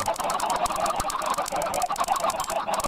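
Dense overlapping clucking from a crowd of chickens in Minecraft, a continuous busy chatter of many birds at once with no pauses and no speech.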